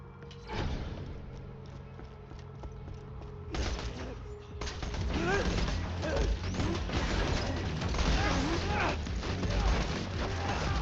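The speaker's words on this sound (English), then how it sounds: "And let's reload our weapons." Weapon reloading by the character Axton in the Borderlands video game, a run of mechanical clicks, ratcheting and metallic clatter building up over ongoing game noise.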